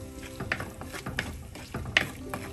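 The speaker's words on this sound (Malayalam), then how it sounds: "ഈ സമയം ഒരു തക്കാളി ചേർക്കാം എല്ലാം കൂടെ നല്ലതായിട്ട് ഒന്ന് വഴറ്റുക" Tomato sautéing with sardine masala in a pan for a Kerala pepper sardine dish, with a few scraping, clacking stirs of a spatula over a low sizzle, close and brief.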